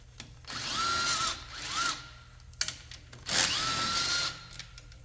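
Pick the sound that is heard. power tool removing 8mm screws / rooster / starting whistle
power tool removing 8mm screws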